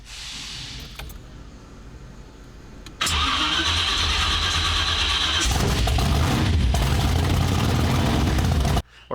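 A car engine cranks faintly, then catches with a sudden loud roar and runs at a strong, steady idle for several seconds before cutting off abruptly.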